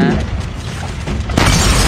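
A grenade detonates in the zombie mode of Call of Duty Mobile, a loud booming burst with a crackling tail, amid game noise and excited shouting from players.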